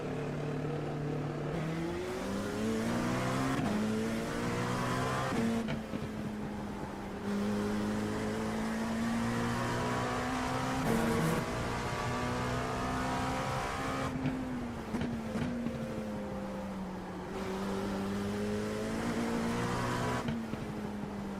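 LMP2 race car engines in iRacing at Sebring, a continuous loud engine drone with rising and falling pitch through gear shifts and revving, steady and close throughout.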